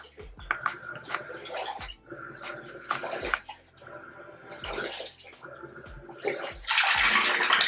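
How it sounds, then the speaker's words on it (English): Black+Decker BPWM09W portable washing machine in wash mode churning water, rhythmic sloshing surges about once a second, close and moderately loud, growing to a heavier splash at the end. "the washer is done filling up and now it has switched to the wash mode"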